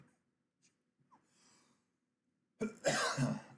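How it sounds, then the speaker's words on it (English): A single loud, close cough bursts out after several seconds of near silence broken only by faint small breaths and clicks. "I apologize about my cough, by the way."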